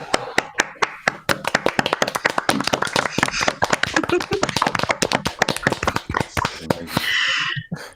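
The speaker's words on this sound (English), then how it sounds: "Stop clapping, he'll hear you." Several people clap together in a quick, dense burst of hand claps that fills most of the moment, fairly close, and then gives way to a short laugh or cheer at the end.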